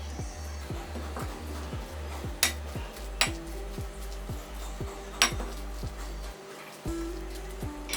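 Sugar, cumin powder and an egg are mixed in a bowl for a porota batter, with soft spoon stirring and a few sharp clinks of utensil against the bowl over a low steady hum.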